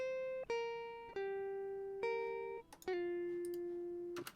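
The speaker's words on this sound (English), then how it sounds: "so if we just listen to just the guitar, so there's no amp simulation on there or anything, it sounds like this." Clean, dry electric guitar lead with no amp simulation in a studio production, single sustained notes picked one after another in a slow melodic line, each decaying gently, with soft string noise between them and no voices.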